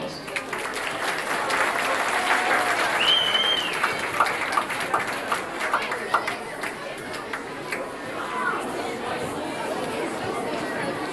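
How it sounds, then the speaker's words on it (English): School concert audience applauding in a hall, a loud burst of clapping mixed with crowd chatter that thins into scattered claps and murmuring, with voices heard throughout. "Mrs. Kinnaman, give her a round of applause"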